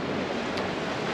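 Sea waves rush against a sailing boat at sea on a passage from Las Palmas to Mindelo, making a continuous loud broadband wash with wind noise and no talk.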